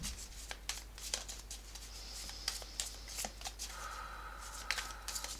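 Tarot cards are shuffled by hand in a quiet room, with repeated crisp riffles and soft slapping card sounds over a low steady hum.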